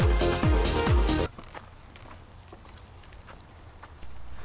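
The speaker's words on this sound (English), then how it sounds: "You can hear my footsteps. I'm cheating. I'm actually walking my bike through here" Footsteps of someone walking a bike through tall grass on a creek trail: a quick run of heavy, rhythmic steps up close at the start, then quieter rustling and faint movement.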